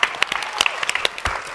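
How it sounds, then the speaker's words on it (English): Audience applause at a live Web3 pitch festival, a dense patter of many clapping hands with sharper individual claps standing out, fairly loud and steady throughout, with no voices over it. "Round of applause."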